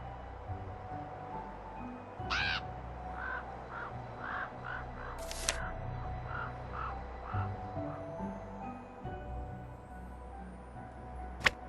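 A crow caws near its nest in a tree in the Nancy Drew video game, giving a string of rasping calls over a steady outdoor ambience, moderately close.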